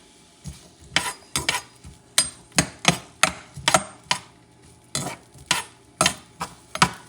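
Chopped onions stirred in a pan while it preheats, cooking toward translucent: about a dozen sharp spoon-against-pan scrapes and knocks at an irregular, quick rhythm, close and fairly loud over a faint sizzle, with no talking.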